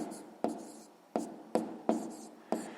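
Pen writing numbers on paper for a sixth-grade math exercise, six sharp strokes starting every half second or so, each trailing off into a faint scratch, close and quiet.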